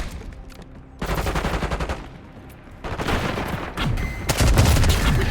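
Bursts of automatic gunfire in an Xbox shooter firefight, dense rapid fusillades that start abruptly and grow louder and more continuous toward the end.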